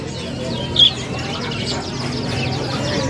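Caged birds at a kiosk in a busy Indonesian bird market chirp and whistle in thin, scattered calls, one brief sharp tweet standing out over a faint background murmur of visitors.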